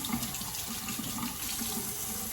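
Warm water pours steadily from a household tap into a sink, a close, continuous hissing splash with no voices over it.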